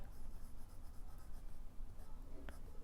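A fountain pen with a medium nib writing on paper, a faint, soft continuous scratching with small strokes and pauses, quiet and close.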